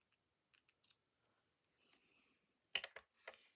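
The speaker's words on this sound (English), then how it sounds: "So I'm going to cut this off." Scissors cutting paper while decorating a Christmas waterfall journal, a few faint quiet snips followed by a louder crisp cluster of cuts near the end, close by in a quiet room.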